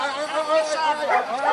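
German Shepherd police dogs bark amid a noisy crowd, their barks mixed into dense overlapping chatter and voices at a steady, moderately loud level.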